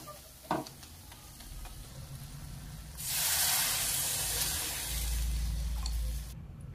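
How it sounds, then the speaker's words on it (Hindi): Water poured into a hot pan of fried Maggi masala with coriander hisses into a loud, steady sizzle that swells after a small clink and holds for several seconds, close and alone. "आता व्यवस्थित आपण आता यात पाणी टाकून घ्यायचं आहे"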